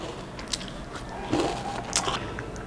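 Someone bites into a flat, crunchy Japanese biscuit with a filling in the middle. Two or three crisp crunches sound close to the mic over a quiet, soft background, with no talking.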